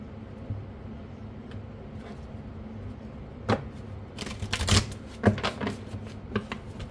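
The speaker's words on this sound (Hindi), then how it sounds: "आज बहुत टाइम बाद मैं इन कार्ड्स को भी यूज़ करने वाली हूँ" Tarot cards are handled and shuffled at close range, a soft papery riffle building to a few quick flurries of slapping and snapping card edges over a quiet room hiss.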